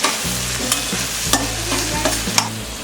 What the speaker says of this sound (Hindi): अब हम इसमें डालेंगे जिंजर गार्लिक पेस्ट, मिक्स कर देते हैं।